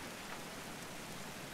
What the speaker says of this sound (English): Are you listening to that rain outside?